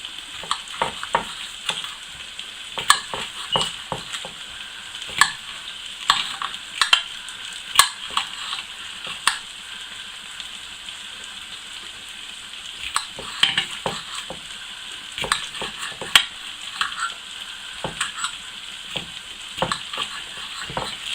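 Chicken strips for chicken fajitas are stirred in a frying pan, with a steady sizzle of frying under repeated scraping and clacking strokes from a utensil, close and fairly loud throughout.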